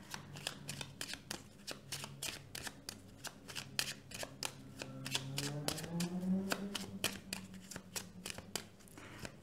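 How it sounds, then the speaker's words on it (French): Tarot cards are shuffled repeatedly in close, rapid riffling bursts with crisp slaps of card stock, steady and rhythmic throughout, with a faint low hum underneath. "j'ai besoin de beaucoup battre les cartes"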